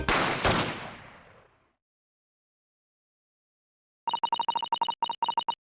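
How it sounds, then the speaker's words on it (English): Two nearly simultaneous gunshots as a sound effect in The Great Ace Attorney Chronicles, a sharp loud double crack with a decaying tail, then silence, followed by a rapid beeping text blip sequence. "I heard a couple of gunshots go off. Two, I think. Almost at the same time."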